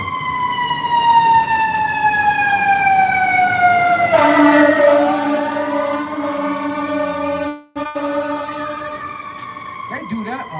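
A fire truck siren wails loudly nearby, its rising and falling tone sliding down as the truck passes, with a brief cut midway and an engine rumble underneath.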